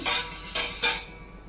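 A spoon clinks against a bowl while curd is mixed with salt and sugar, three quick bright scrapes and taps, close and fairly quiet, with no voices.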